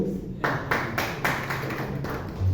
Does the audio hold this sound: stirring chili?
no